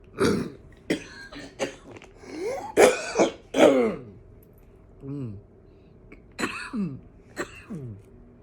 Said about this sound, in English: as I'm saying that, I'll start coughing